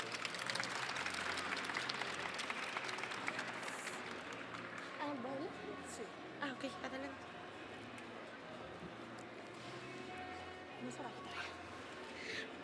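Audience applause at a Spanish-language nursing congress sendoff, a fairly loud crowd clapping for the first several seconds and then fading into a lighter, thinner patter with murmuring and room noise.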